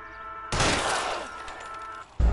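A burst of gunfire from the video game L.A. Noire roars out as a sustained, harsh blast lasting over a second and a half, followed by a sharp loud hit at the end, with no talking.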